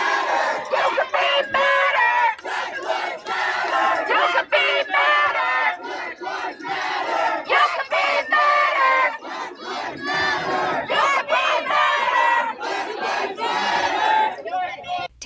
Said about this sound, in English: We've moved past the megaphone and are now looking at the sheer volume of the crowd pressing into this dining space